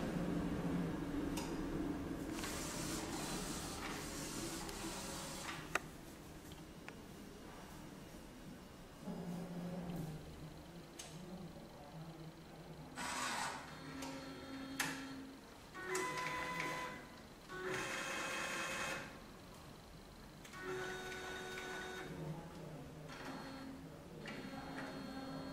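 A Brotherjet A3 UV printer runs its first initialization, giving off intermittent mechanical whirring, ticking and sliding movement sounds in bursts at moderate, close range, with no talking.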